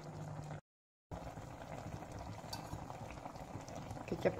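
Broth of boiled chicken feet simmers in a pot, a faint steady bubbling hiss broken by a short silent cut, with light kitchen clatter near the end.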